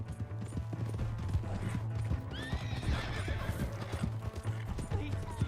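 Horse hooves clip-clop steadily in Red Dead Redemption 2, with a clear whinny rising midway, set against a steady low hum.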